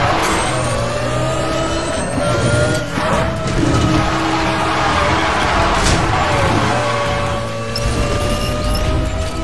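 A car engine in the racing game Need for Speed The Run, running at high revs with steady, loud accelerating drone and rising pitch throughout, with no break in the sound.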